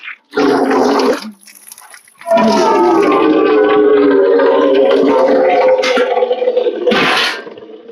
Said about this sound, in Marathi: पाणी येत